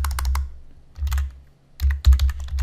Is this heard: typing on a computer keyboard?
yes